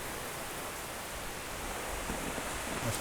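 Heavy thunderstorm rain hisses as a faint, steady broadband wash in the background, continuous and even with no talking.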